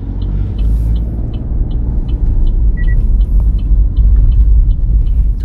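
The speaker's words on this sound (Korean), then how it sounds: "자, 이제 기어 넣고 좌우 안전 확인하고 출발." A car pulls away from a stop during a road driving test at a licensing test centre in Chuncheon, its engine rumbling low and steady at close range with no talk over it.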